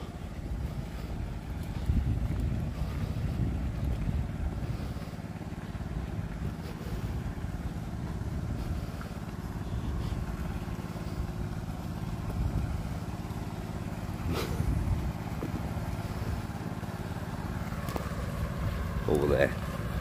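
A boat engine drones steadily at a distance under wind noise at a fishing and camping site, a low continuous rumble lasting throughout, with a few faint knocks near the end.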